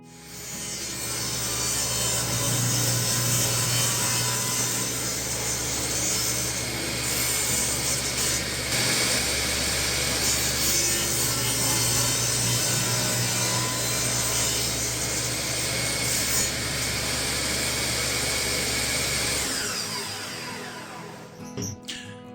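A table saw fitted with a miter sled runs at full, steady roar while cutting a wood miter joint, the blade grinding through the board for about twenty seconds before the motor winds down and stops.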